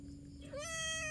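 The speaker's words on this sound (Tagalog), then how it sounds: "Ang bagong silang na pusa." A newborn white kitten gives a single short, high, thin meow, close and clear, rising near the end after a quiet start.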